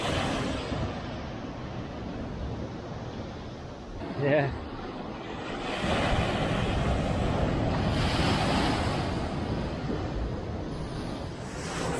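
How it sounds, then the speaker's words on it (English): Ocean waves on a wild, desolate Channel Islands shore under a bigger southerly swell, a steady loud wash of surf with wind rumble throughout and a brief voice sound partway through. "I watch these waves"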